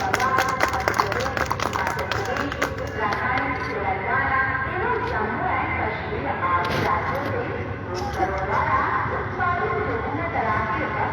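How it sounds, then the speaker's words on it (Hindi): An audience at a symposium at the Patna Book Fair claps loudly to welcome a performer, a dense crowd of clapping mixed with general hall noise, sustained throughout. "प्लीज आप लोग उनका जोरदार तालियों से अभिनंदन करें।"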